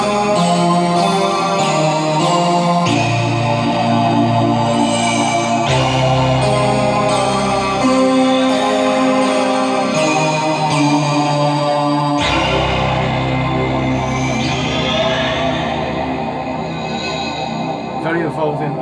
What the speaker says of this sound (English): That is the digital native dance patch as well.